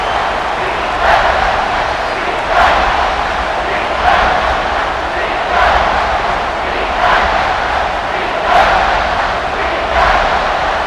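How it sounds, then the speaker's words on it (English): A stadium crowd roars steadily in College Football 26 during a red-zone defensive stand between Oregon State and Oklahoma State, a loud continuous wash with periodic swells. "And the crowd coming to life here, trying to help this defense down in the red zone."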